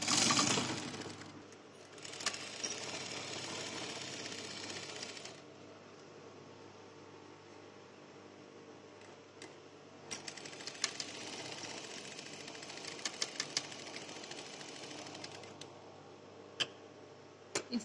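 A sewing machine stitches the band onto a shirt in bursts of fast, even mechanical ticking, quiet and close, with pauses between runs.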